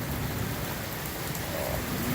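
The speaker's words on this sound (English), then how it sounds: "Got shot with rain again." Heavy rain with hail pours down in a dense, even hiss, a steady roar of falling water and ice with no breaks over the short stretch.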